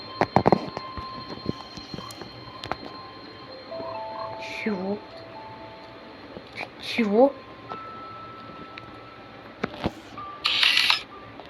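A sharp camera shutter click from an in-game camera in Minecraft rings out near the end, following scattered game sound effects and short chirpy tones over a low ambient hum.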